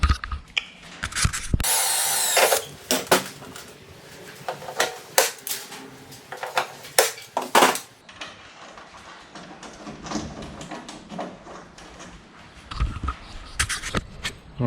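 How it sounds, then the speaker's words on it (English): A power drill whirs in short bursts, boring holes for pot rivets with a grinding rattle, separated by pauses and handling clatter, on an LS1-powered mini truck. "drill a couple of holes, put a couple of pot rivets in it"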